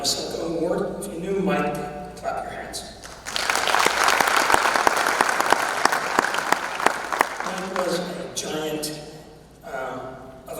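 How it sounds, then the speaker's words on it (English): An audience at a high school spring band concert breaks into a burst of clapping lasting several seconds, with a voice talking before and after. "If you knew Mike, clap your hands."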